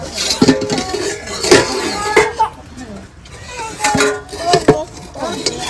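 A bowl of steamed katla fish is lifted out of a pot of water where it sat on a stand, with sharp metal and ceramic clinks and clatters scattered through lively nearby talk.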